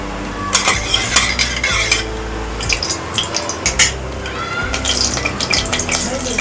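Cumin seeds go into hot oil in a pan and are stirred, producing a continuous close sizzle broken by clinks of a metal spoon against the pan, with no speech heard.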